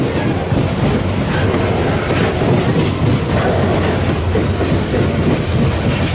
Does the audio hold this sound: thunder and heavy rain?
no